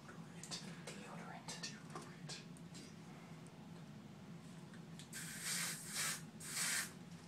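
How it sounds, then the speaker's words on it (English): Several short hissing bursts of spray-on deodorant, the last few louder and closer, with quiet speech murmuring in the background. "So we're going to spray him with spray-on deodorant."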